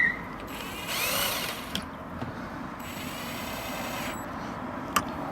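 Nuts being tightened onto an affordable anti-theft van lock, giving a close, fairly quiet ratcheting and metallic clicking with a few sharp ticks, no talk.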